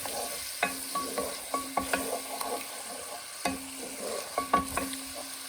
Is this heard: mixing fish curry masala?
yes